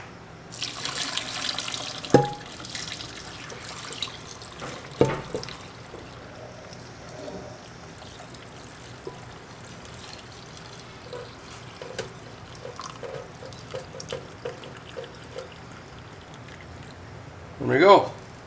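Hot liquid poured into a glass jar in a homestead kitchen, a soft liquid trickle running through most of the clip at moderate level, with brief clinks and a louder burst near the end.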